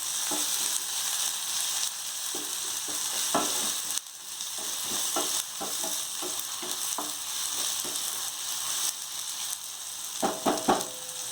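Ginger garlic paste and turmeric powder frying in a pan for tomato poha, a steady broadband sizzle with scattered scraping stir strokes and taps throughout, close and unbroken, no voices.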